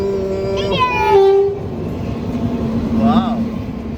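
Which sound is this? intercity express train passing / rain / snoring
intercity express train passing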